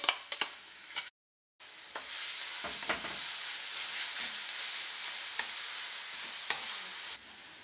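Garlic sizzles in oil heated over medium-high heat, making a bright, steady hiss broken by a short silent gap and by a few clicks and stirring knocks.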